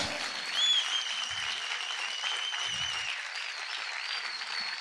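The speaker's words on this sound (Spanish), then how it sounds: "Aplaude, aplaude, aplaude fuerte al Señor." Church congregation applauding the Lord during a worship service, steady dense clapping filling the space continuously, loud and sustained with a few sharp whistles or cries rising above it.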